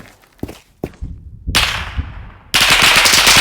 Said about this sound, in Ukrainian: Тут просто зі всього стріляють.